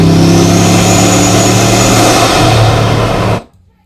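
A Bugatti Mistral's combustion engine roars loud and close in a full, steady drone, holding for several seconds before cutting off abruptly into silence.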